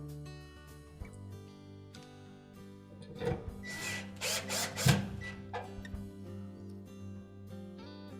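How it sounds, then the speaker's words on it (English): A power drill drives screws into a Whirlpool dryer during a bushing shaft repair, with several short whirring bursts in the middle over a steady tonal background. "And tighten all 4 screws."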